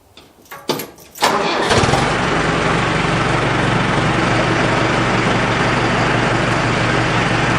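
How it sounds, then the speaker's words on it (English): A tractor engine on a Texas farm cranks with a few rough starter turns, catches after about a second and settles into a loud, steady close-up idle that runs without a break. "I'm going to move the tractor out of the way"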